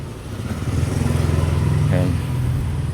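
Motorbikes on a street in the Maldives, a steady buzzing engine drone passing close by, with a brief higher whine near the end and no talking.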